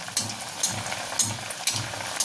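Vetki fish fry, Kolkata style, sizzles steadily in hot oil, a dense crackling hiss with rhythmic pulses of louder spattering roughly every half second, close by and without talk.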